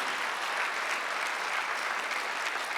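Church congregation applauding during a Sunday worship service, a steady dense wash of clapping from many hands that holds evenly for about three seconds with no voices over it.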